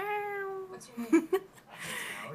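A voice imitates a cat's meow, a drawn-out whiny tone followed by a few short chirpy sounds and a breathy trailing noise, close and fairly quiet.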